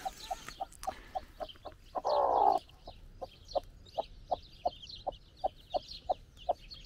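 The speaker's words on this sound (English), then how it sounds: "there are more chicks" Chickens cluck in a steady, evenly spaced series of sharp calls, with faint chick peeps above and one brief louder squawk partway through, outdoors near a creek.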